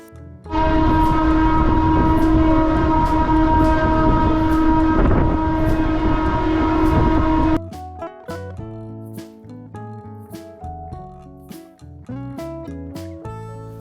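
A local commuter train in Bangalore sounds a long, loud continuous horn blast for several seconds, then settles into rhythmic clickety-clack of wheels over rail joints with rattling carriage noise.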